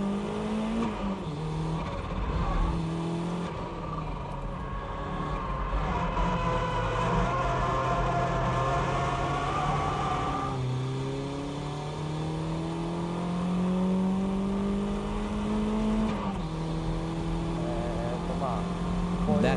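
A BMW drifts with understeer, its engine revving and wavering through long sweeping pitch changes as tires scrub, while someone talks over the continuous engine note.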